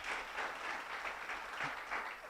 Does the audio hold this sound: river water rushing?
no